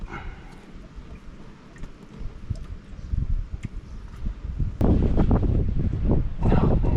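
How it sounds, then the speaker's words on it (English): Gusty wind blows across a microphone outdoors beside a Branson 3015h tractor, rumbling and buffeting in uneven surges that grow much stronger and louder in the second half, with no voices. "And of course the wind picks up, so it blows the oil everywhere."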